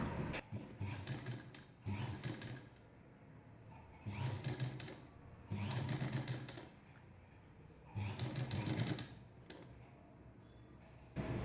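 A sewing machine stitches rolled piping, made without a cord inside, onto a shirt in about four loud, close runs of rapid whirring, each separated by brief pauses.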